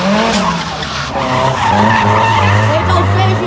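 At a Belgian auto show, a drifting car's tires squeal loudly and continuously over a roaring engine at close range, with crowd noise mixed in.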